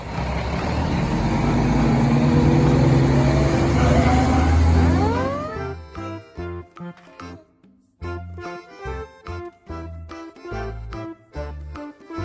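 A toy fire truck rumbles loudly with a rising siren-like whine over its engine noise, then turns into choppy, repeating electronic pulses that stop and start through the rest.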